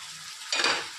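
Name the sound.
vegetables frying covered in a pan for sukto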